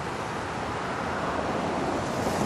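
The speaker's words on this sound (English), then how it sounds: "Look at that creek." Creek water rushing in a steady, full broadband roar, loud and continuous with a touch of wind noise, no voices.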